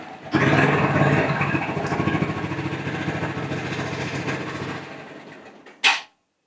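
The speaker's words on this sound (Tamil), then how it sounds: "ஸ்டார்ட் பண்ணி பார்க்கலாம் ஸ்டார்ட் ஆகுதா இல்லையான்னு" A TVS Victor motorcycle with 67,000 km rumbles for several seconds, close and fairly loud, then fades; a brief clunk follows before it cuts to silence, as if stalling.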